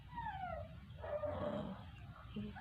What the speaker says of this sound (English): I can see the little puppies out in the backyard